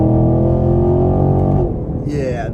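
A 2023 Chevrolet Camaro LT1 pulls hard in second gear on a multi-lane highway, its V8 engine drone loud and steady with rising harmonics, then easing off near the end as the revs drop.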